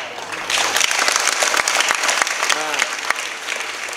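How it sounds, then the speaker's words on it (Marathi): A crowd at a kirtan gathering claps in a lively burst of applause, with loud, dense clapping and a brief voice rising through it partway. "टाळ्या जर वाजल्या तर कशा वाजल्या पाहिजेत"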